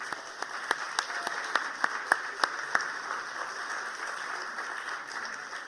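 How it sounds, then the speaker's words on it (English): Audience applauding Ron Kagan and his staff: a steady, moderately distant round of clapping with a few sharper individual claps standing out early, sustained throughout. "let's just give a round of applause to Ron Kagan and his staff"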